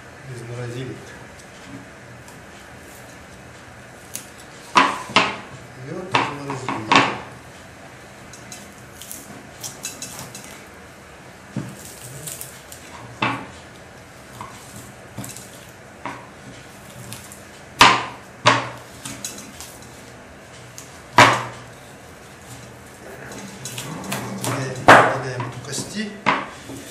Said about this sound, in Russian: Сейчас я буду сам разделывать ледяное мясо,